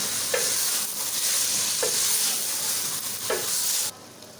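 Urad dal frying with meat in a pan sizzles steadily and close, with three evenly spaced scraping stirs of a spatula before the sizzle drops away near the end.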